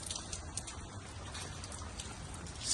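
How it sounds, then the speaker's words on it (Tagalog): Steady heavy rain in Tirana, Albania, at six in the morning patters densely and evenly, a close, continuous hiss of drops with no voices. "Lakas ng ulan, umuulan."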